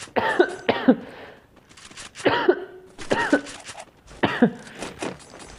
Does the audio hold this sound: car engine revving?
no